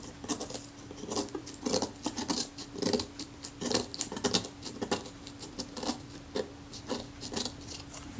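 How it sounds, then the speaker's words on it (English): A sharp scalpel scrapes and cuts the chrome trim of an Agfa Karat 36 camera, a close, rapid series of small rasping scratches in an uneven rhythm. "Of course, you've got to be careful when you're pushing hard with sharp scalpels."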